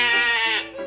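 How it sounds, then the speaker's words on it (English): A medium-sized sheep lets out one steady, quavering baa that sags slightly toward its close, heard up close with nothing else around it. "When the medium sheep baas,"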